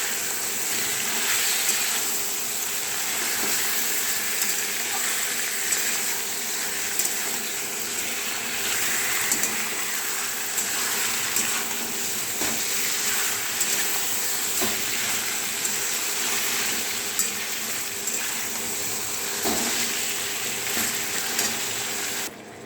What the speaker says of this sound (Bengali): চিকেনটা ফ্রাই করি, তারপরে মশলা দেব।